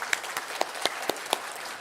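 A church congregation gives a brief, light round of applause during a Sunday worship service, a handful of distinct claps spaced across under two seconds, fairly quiet and without speech.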